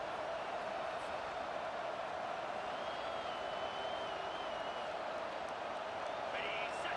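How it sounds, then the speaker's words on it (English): A stadium crowd roars in a college football video game, with a steady, distant wash of cheering and crowd noise under a commentator's voice. "It's early, but this crowd is fired up. Listen to this noise here."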